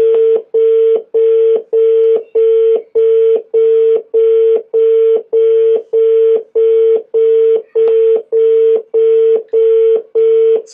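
A telephone ringback tone repeats in steady evenly spaced pulses, loud and clear, about a dozen identical beeps with short silences between, no voices.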